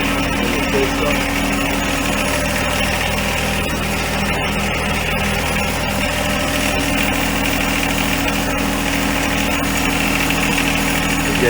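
A John Deere 1025R compact tractor engine runs at a steady idle during routine maintenance, a loud, close, continuous drone with a constant mechanical rattle and no break.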